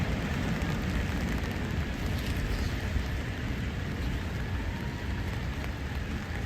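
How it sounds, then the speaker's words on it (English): Rain falls steadily outdoors on an all-day rainy day, a dense, even hiss of drops with a low rumbling background, constant and unbroken with no voices. "It's been raining all day."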